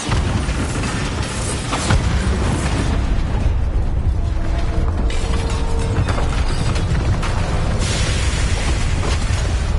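A Bombarda blasting spell in Hogwarts Legacy sets off a loud, sustained explosive roar with crackling debris, dense and booming throughout with no talking.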